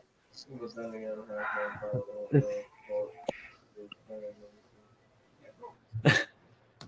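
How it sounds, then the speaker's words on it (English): Several short coughs and throat-clearing bursts, close by, scattered between murmured voices, with a harsher cough near the end. "The coughing in the background."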